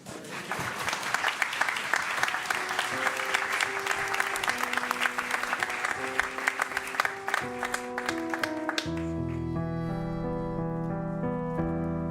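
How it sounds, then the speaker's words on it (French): Audience applause at a Holy Thursday church celebration, dense steady clapping for about nine seconds that gives way to sustained piano or organ chords as music begins. "Vous pouvez les applaudir."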